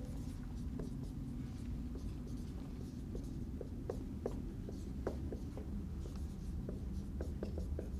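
Chalk or marker writing on a board during a university chemistry lecture, with quick scratchy strokes and taps repeating steadily and faintly over room noise.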